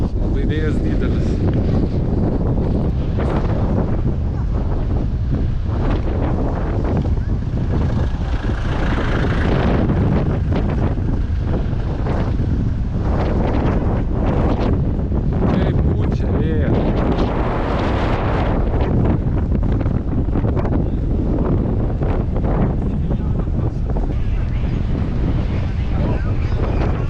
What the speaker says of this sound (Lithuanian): Labai vėjas didelis.